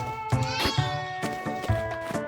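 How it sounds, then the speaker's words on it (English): A cat meowing in the Fields of Mistria farming video game, several short repeated meows close by over a soft steady music background. "and the cat's in the background."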